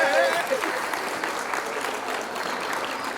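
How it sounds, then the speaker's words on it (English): Studio audience applauding on a reunion talk show, continuous dense clapping that starts loud and settles to a steady level, with faint talk mixed in. "What an applause you got, huh?"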